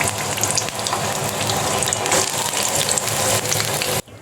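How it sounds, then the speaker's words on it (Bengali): Bitter gourd pieces deep-frying in hot oil give a dense, loud, continuous bubbling sizzle that cuts off abruptly near the end. "একে একে করলাগুলোকে আমি ভেজে নিচ্ছি ডুবো তেলে"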